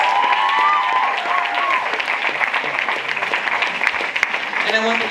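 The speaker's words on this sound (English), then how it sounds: "I want you to give a round of applause to our amazing executives" An audience at a business event gives a round of applause for company executives, loud sustained clapping with cheering voices and a speaking voice mixed in over it.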